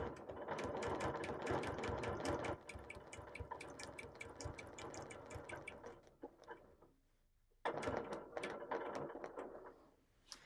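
Sewing machine stitching around a white square between blue patches of a quilt, a steady rapid mechanical clatter that runs continuously, pauses briefly, then resumes, close and fairly loud.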